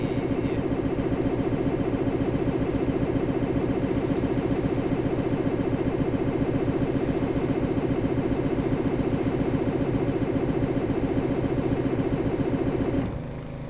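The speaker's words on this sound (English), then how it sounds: "Let's see if I can get the engine to fire." Ship engine in a video game cranking and trying to start, a loud, continuous chugging rattle that holds steady for over ten seconds, then drops off abruptly at the end.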